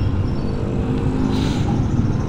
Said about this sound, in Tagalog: Madami na rin sasakyan.